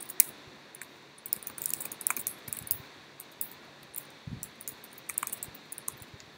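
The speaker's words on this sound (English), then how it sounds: "I'm going to type it out to you." Close, rapid keystrokes as a web address is typed on a computer keyboard, irregular bursts of light clicks over a faint hiss.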